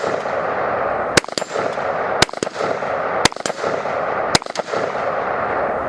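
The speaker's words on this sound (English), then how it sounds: "there's some firing, there's some shooting for you" Rifle gunfire from a Colt pony carbine, four sharp loud reports spaced about a second apart over a steady outdoor background hum.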